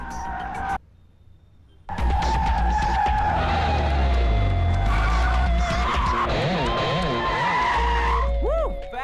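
A car being test-driven skids with long, loud tire squeals over a roaring engine, breaking in after a brief quieter pause and then wailing in rising and falling screeches that carry on to the end.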